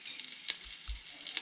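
A steady, close hiss of oil frying, with a few brief crackling spikes as fennel seeds and other whole spices hit the hot pan.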